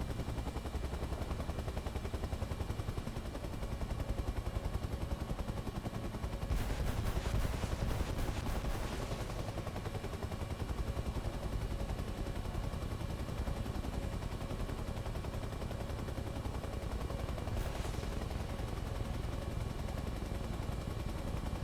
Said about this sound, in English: Let's just lob our rockets at it